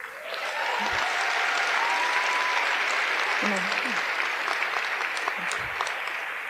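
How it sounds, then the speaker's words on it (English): An audience applauds at a graduation-style speech, sustained crowd clapping that swells in after a quiet start and holds steady, with a few brief voices and faint tones mixed in. "You guys are going to clap after every one."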